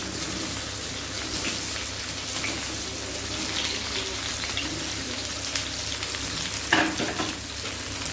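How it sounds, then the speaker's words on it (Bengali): Small potatoes frying in a little hot oil for aloo dum, a steady dense sizzle like light rain, close and even, with one brief louder stir or clatter near the end and no speech. "আমি ছোট ছোট আলুগুলা অল্প একটু তেলে ভেজে নিব"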